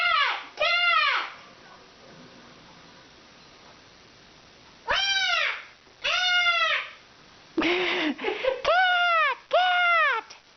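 A Timneh African grey parrot imitates a cat's meow, giving about seven close, clear meows in two bursts separated by a quiet pause, with no talk.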